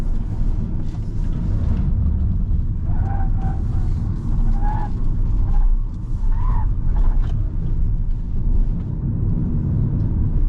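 A BYD Dolphin electric car rolls over slippery brick paving on Genting, making a steady, loud road rumble and tyre noise heard from inside the cabin, with faint squeaks in the middle.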